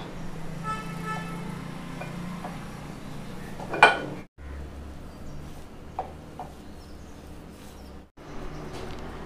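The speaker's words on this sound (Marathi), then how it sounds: "आता आपण मिश्रण एकजीव करून घेऊया" Upvas kachori mixture of potatoes and salt being mixed together in a bowl, giving soft scraping with a single sharp utensil clink partway through, moderately quiet over steady kitchen background.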